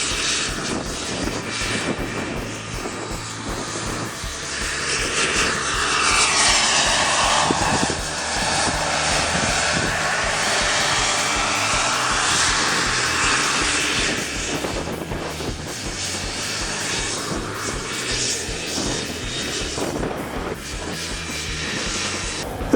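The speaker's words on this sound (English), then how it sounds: "Built from a Vario kit, the model uses a single JetCat turbine engine and has a rotor span of 78 inches." A Vario-kit CH-53 scale model helicopter with a single JetCat turbine engine and 78-inch rotor span flies with a steady, loud turbine whine and rotor roar that swells and recedes as it passes.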